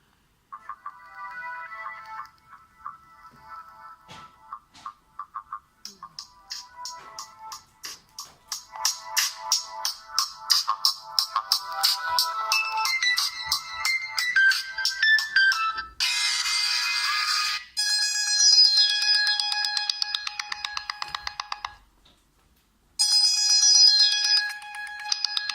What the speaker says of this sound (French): Alors, quelle est la sonnerie par défaut?